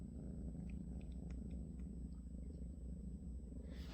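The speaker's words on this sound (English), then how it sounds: "they are purring up a storm in there" Low, steady purring rumbles continuously, close and soft, with a few faint clicks above it.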